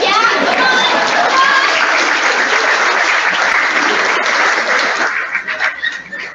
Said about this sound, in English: Oh yeah, clap for us!